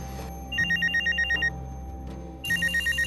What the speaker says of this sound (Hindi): सलीम का फोन है